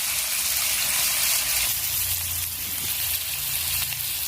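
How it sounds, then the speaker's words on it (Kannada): Onion and tomato frying in a pan for a ridge gourd dish, a steady sizzle with some bubbling, constant and fairly close, with no voices. "ನೋಡಿ ಫ್ರೆಂಡ್ಸ್, ಫ್ರೈ ಆಗಕ್ಕಂತೈತಿ"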